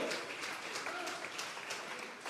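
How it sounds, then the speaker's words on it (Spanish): A church congregation applauding during a Sunday worship service, steady dense clapping from many hands filling the room throughout, fairly quiet and distant with a few brighter hand claps standing out. "Vamos a regalarle ofrenda de palmas al Dios de la gloria."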